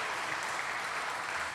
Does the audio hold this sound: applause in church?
yes